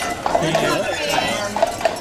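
Carriage horses on Mackinac Island clop their hooves on the street in a light, uneven rhythm of close hoofbeats, heard beneath a tour guide's steady talking.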